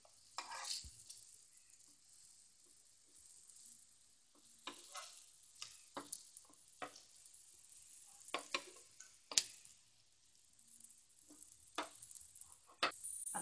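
Coriander vadi shallow-frying in oil until golden brown, a faint steady sizzle broken by irregular sharp clicks and taps of a spatula turning the pieces.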